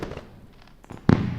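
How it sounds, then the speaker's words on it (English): A fireworks sound effect played during a live trading stream, a few soft crackles and pops followed by two louder bursts near the end, with no talk over it. "Let me do some fireworks."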